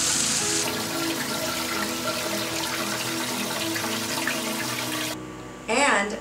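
An indoor waterfall in a Beverly Hills house makes a steady, close rush of running water that cuts off near the end, leaving a brief burst of other noise.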